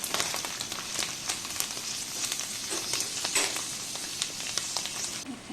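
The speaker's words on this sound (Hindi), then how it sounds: "थोड़ा चट चट चट चट टाइप का आवाज़ आएगा तो समझ जाइएगा कि ये भूनते जा रहा है" Ridge gourd sautéing in a pan for a spiced vegetable dish, a moderate continuous sizzle scattered with quick crackling pops that rise and fall in bursts.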